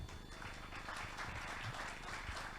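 Audience applause at a Mensa gathering in Bali, a dense steady wash of many hands clapping throughout, fairly loud and continuous with no clear pauses.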